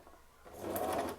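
A domestic sewing machine starts up and stitches steadily and slowly, a soft mechanical whir with a light rhythmic clatter, close by and with no talking.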